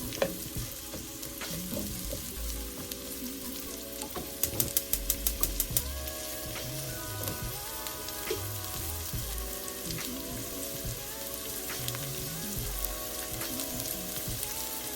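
Mushrooms fry in a pot, a soft continuous sizzle sitting under background music with a brief run of rapid clicks partway through.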